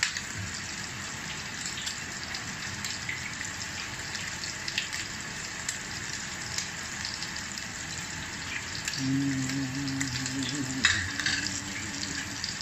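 Steak fries in butter in a pan with a steady, close hiss of sizzling fat, which swells slightly as the meat is nudged loose, and a brief hum joins near the end.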